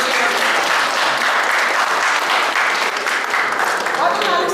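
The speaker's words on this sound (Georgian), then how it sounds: "Თქვენი აპლოდისმენტები." Audience applause at an art exhibition opening in Rustavi, a dense, steady roar of many hands clapping together that stays loud and continuous throughout.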